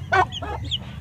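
A chilled, cold chicken gives a short burst of close clucks, a louder first cluck followed by two softer ones over a low steady hum.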